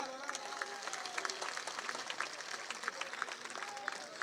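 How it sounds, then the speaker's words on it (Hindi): Seated crowd at an outdoor Indian political rally claps in welcome for a candidate, a faint, distant, steady patter of applause. "झावर सिंह खर्रा जी, उनका जरा स्वागत करिए तालियों के द्वारा।"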